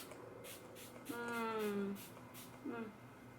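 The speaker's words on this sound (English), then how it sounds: "with our Max Fix Plus, spray our face to the heavens" Several short, airy spritzes of setting spray misted onto a face, interspersed with a voice humming or murmuring nearby.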